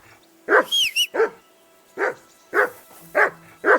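A dog in Kingdom Come: Deliverance II barks loudly and close, a quick cluster of barks followed by several spaced single barks, with a short whistle-like tone early on and no talk.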